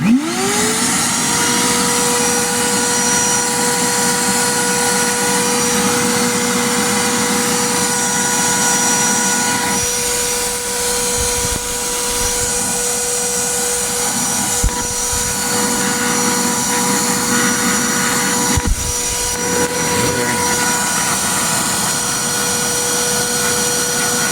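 A shop vacuum with a Bauer cyclone dust separator roars continuously at close range, a loud steady motor whine and rushing airflow that starts abruptly and holds for the whole stretch.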